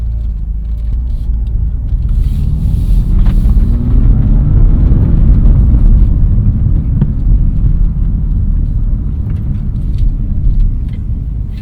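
A BMW M2 CS, 2020, driving along with a loud, steady low engine and road rumble that swells slightly midway and holds on without pause.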